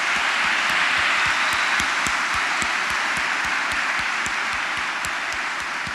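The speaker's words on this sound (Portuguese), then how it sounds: "Salva de palmas para Jesus." A church congregation gives loud, continuous applause to Jesus during a sermon, with dense, unbroken hand-clapping from many people that fills the room for six seconds.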